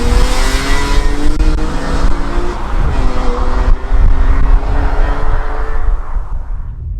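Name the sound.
BMW M3 CSL car driving, engine revving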